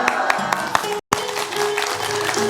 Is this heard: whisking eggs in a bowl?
no